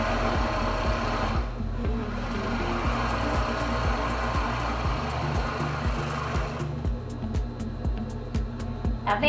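A five-thread overlock machine runs steadily, closing the center back seam of a cascade-collar blazer, with a continuous close mechanical whir and rapid stitching rhythm, a brief slowdown near the start and sharper needle ticks toward the end.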